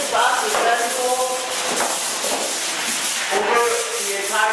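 A hand sanding tool scrapes back and forth over drywall joints in a corner angle, close and rhythmic with several rough strokes.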